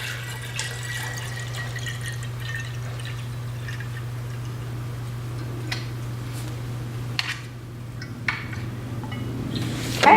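Distilled water trickles and drips into a container, with a few small splashes over a steady low electrical hum and no talking.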